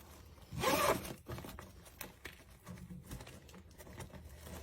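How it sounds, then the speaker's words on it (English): A zipper is pulled once in a quick, loud rasp near the start, followed by soft handling rustles and light taps. "You have a zipper at this end too?"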